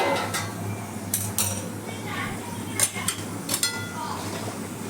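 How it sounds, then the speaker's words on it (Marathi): Metal lid lifted off a cooking pan of paneer and pea curry, a few clanks and clinks of pot and utensil over a quiet background, with faint voices. "आता आपण झाकण काढून बघूयात भाजी कशी झाली काय ते."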